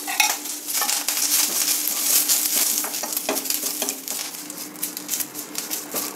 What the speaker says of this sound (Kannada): ಇದಕ್ಕೆ ಸ್ವಲ್ಪ ಎಣ್ಣೆ ಹಾಕ್ಕೊಂಡು ಹುರಿದ್ರೆ ಚೆನ್ನಾಗಿ ಕ್ರಿಸ್ಪಾಗುತ್ತೆ ಕರಿಬೇವಿನ ಸೊಪ್ಪು